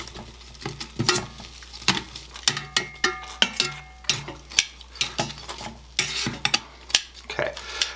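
Air-fried food pieces being stirred and shifted around a metal fryer basket, a run of close scraping clatters, taps and light sizzling across several seconds with no talking.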